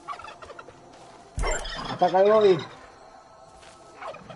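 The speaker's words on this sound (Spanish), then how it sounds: "Un pavo, un pavo. El pavo está loco." A turkey gobbles in the video game Far Cry 5, one loud rippling gobble close up, with someone talking in Spanish just before it.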